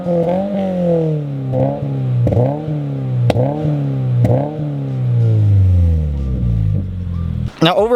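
A 2022 Subaru BRZ fitted with an MXP Comp RS catback exhaust revs repeatedly up close, each loud rise and drop in pitch followed by a final climb and a sharp crackle at the end.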